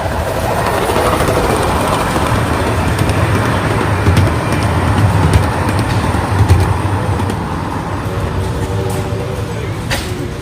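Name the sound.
train passing on railroad tracks at fair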